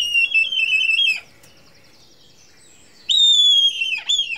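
Red kite calling, two loud, close, high whistling calls, each a long drawn-out note ending in a quick wavering flourish, separated by a short quiet gap.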